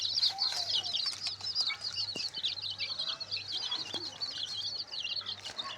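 Chickens and young chicks in a cage keep up dense, continuous high peeping and soft clucking, close by, with a low steady hum underneath and no talking.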